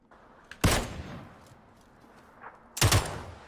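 Two loud, sharp bursts of gunfire in PUBG Mobile, about two seconds apart, each a brief crack with a short ringing tail over a quiet background.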